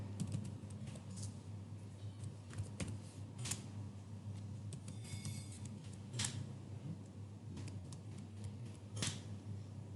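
A root password is typed on a computer keyboard: scattered, faint key clicks at an uneven pace over a quiet room hum, with no voices.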